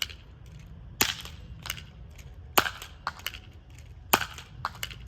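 A Nerf blaster with a stiff, heavy trigger fires three sharp, close snaps roughly a second and a half apart, with softer mechanical clicks and clacks between the shots.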